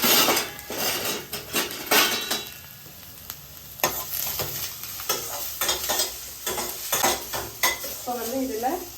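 Chopped onions sautéing briefly in a hot pan for onion samosa stuffing: busy metallic clanks and scrapes of a spoon stirring against the pan, in uneven bursts over a soft background sizzle, with no voices.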